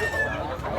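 A bullstag gamecock crowing briefly amid a busy outdoor fowl market in Tabunok, Cebu, one sustained call over steady background chatter and noise.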